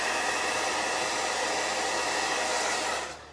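A hair dryer blows steadily on wet paint, a loud, even rushing roar that holds for about three seconds and then begins to wind down.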